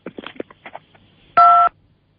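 A single telephone keypad tone, a steady two-pitch beep lasting about a third of a second, follows some quiet, brief speech-like sounds and stands out loud and clear before silence returns.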